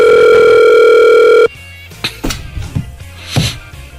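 An outgoing telephone call rings out with a steady electronic ringback tone held for about a second and a half, then cuts off, leaving quiet room noise with a few faint handling bumps.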